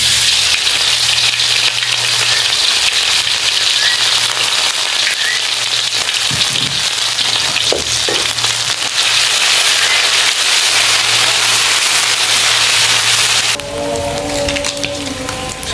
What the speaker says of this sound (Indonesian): Kita tumis dulu bumbu baladonya.